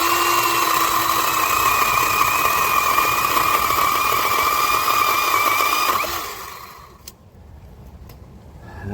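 A Yovot chainsaw running hard through green wood, a loud steady engine whine with cutting rasp for about six seconds, then the revs drop off and the saw falls near silent.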